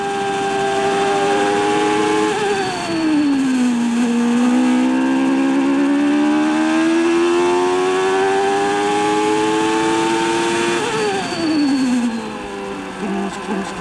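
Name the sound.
Formula 1 car with variomatic gearbox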